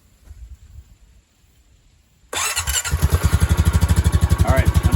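A 2021 Honda Rancher ATV engine cranks and catches after a quiet moment, then settles into a loud, close, steady idle with a fast even pulsing chug.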